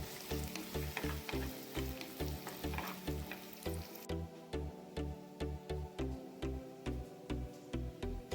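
Onions, ginger, garlic and curry leaves sautéing in oil, a continuous sizzle under a steady rhythmic ticking pulse, close and moderately loud.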